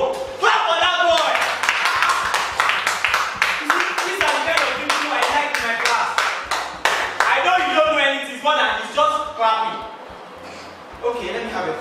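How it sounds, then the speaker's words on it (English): Classroom students clap for a boy, rapid close hand claps repeating through the scene while voices talk over and between them. "Clap for that boy."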